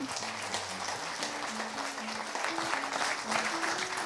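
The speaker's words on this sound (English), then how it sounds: "Please, a round of applause, please welcome up His Royal Highness Prince Abdullah." Audience applause fills a hall at the Saudi Cup launch event as Prince Abdullah is welcomed to the stage, a steady dense wash of clapping mixed with crowd noise and some voices.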